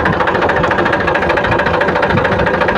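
An Eicher 380 tractor engine runs close by with a steady, rapid chugging knock, loud and unbroken throughout; the tractor has a hydraulic fault, its lift dropping by itself.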